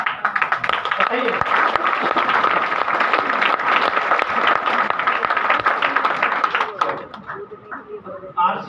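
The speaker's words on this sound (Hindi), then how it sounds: "आप इतनी देर से ताली बजा रहे।" Seminar audience applauding steadily throughout, a dense continuous wash of many hands clapping that thins toward the end, with a voice faintly underneath.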